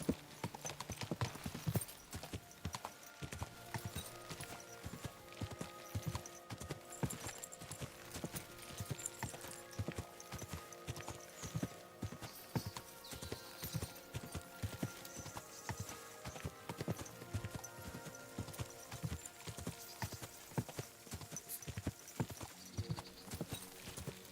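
Hooves clip-clop steadily at a gallop in Kingdom Come: Deliverance II, dense rhythmic beats layered over background game music and ambience, with occasional horse snorts, continuing for the whole stretch.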